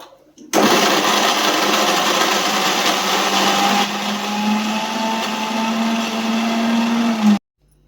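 A mixer grinder grinding coconut chutney starts abruptly and whirs loudly and steadily for several seconds, its pitch shifting slightly partway, then cuts off.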